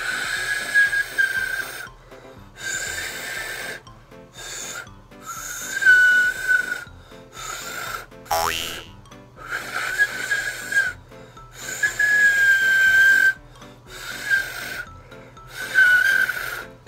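A finger whistle makes a series of breathy, airy whistled notes in short bursts with brief pauses, each carrying a thin steady pitch over rushing breath noise, close and fairly loud.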